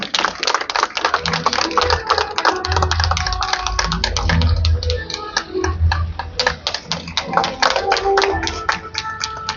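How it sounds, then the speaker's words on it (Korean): A crowd at a South Korean county council officials' joint statement event claps steadily for several seconds, dense overlapping applause in a room with a low hum underneath. "박수로 맞이해 주시기 바랍니다"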